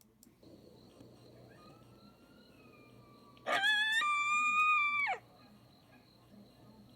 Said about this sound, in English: Coyotes are bad. Howling for the pack.